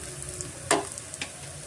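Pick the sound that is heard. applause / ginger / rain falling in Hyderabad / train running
ginger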